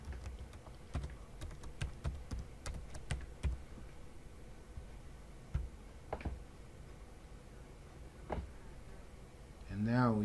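Scattered computer keyboard keystrokes during a login on a remote VNC desktop, a quick run of clicks early followed by a few isolated taps, fairly faint and close, with a short muffled noise at the end.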